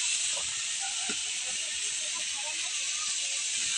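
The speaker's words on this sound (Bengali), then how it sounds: "আমি এখানে একটু দারচিনি আর ছোট এলাচ ফোড়ন দিয়েছি। এবারে আমি এটাকে একটু ভেজে নিচ্ছি।" Cinnamon and small green cardamom fry in hot oil in a pan for mango chutney, giving a steady, bright sizzling hiss that holds evenly throughout, with a faint voice murmuring underneath.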